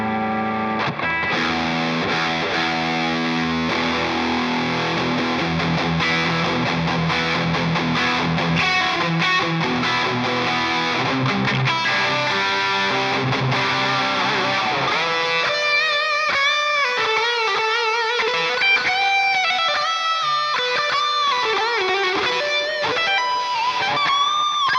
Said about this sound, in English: So that was a pretty good example of a high gain tone out of the JMP.